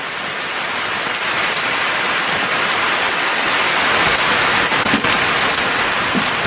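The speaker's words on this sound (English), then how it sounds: "In the afternoon, the rain falls more heavily." Heavy afternoon rain pours steadily onto the rock of Auyantepui, a dense, loud, continuous hiss of drops with no voices.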